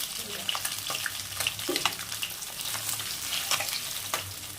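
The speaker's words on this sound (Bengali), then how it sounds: "দেখো বন্ধুরা, মাছ ভাজা হয়ে গেছে।" Tilapia fish frying in hot oil, an uneven close sizzle with bursts of spitting and crackling pops throughout, no speech.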